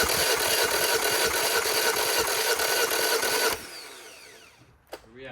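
A 50 HP Yamaha T50 outboard with a repaired corroded water jacket cranks over steadily during a compression test, loud and close with a fast mechanical chug, then stops abruptly, leaving quiet room noise and a brief squeak.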